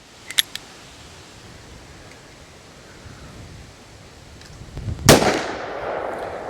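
A Ruger GP100 .357 Magnum revolver fires a single loud shot at an outdoor range, a sharp blast with a ringing decay, preceded by faint clicks and steady wind noise.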